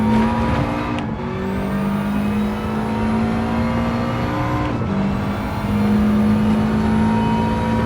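A race car engine in Gran Turismo 7 on PS5 gives a loud, steady drone with whining tones that shift pitch at two gear changes, sustained and close throughout.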